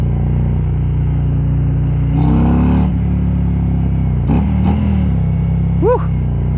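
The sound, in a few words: Harley-Davidson Road King motorcycle engine revving while riding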